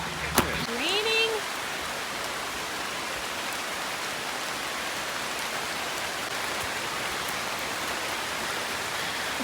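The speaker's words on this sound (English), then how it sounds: "The rain is coming down." Steady rain pours down outdoors in Portland, Jamaica, a dense, even hiss that holds at one level throughout, with a brief voice and a short whistle-like sound near the start.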